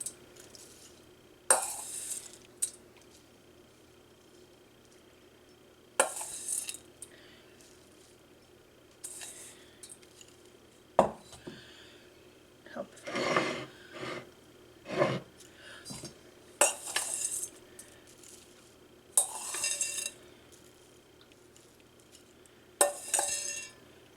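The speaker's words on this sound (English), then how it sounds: "we're just going to spoon this onto our ramekins" Cherry oatmeal mixture being spooned into ramekins, scattered bursts of spoon clinks and scrapes against dishes with soft wet plops between quiet gaps, close and moderately loud.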